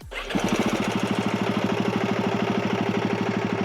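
A Royal Enfield Himalayan 450 motorcycle starts up and settles into a fast, even, throbbing idle with a close, steady exhaust pulse.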